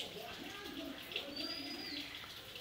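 Pet myna bird giving soft calls and a thin rising whistle indoors, faint and close, with a person's voice nearby.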